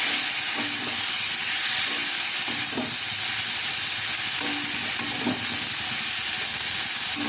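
Ground spices frying in a pan after a splash of water, a loud continuous hiss of steam and sizzle with faint periodic scraping taps of stirring, for a Bengali fish curry with banana stem.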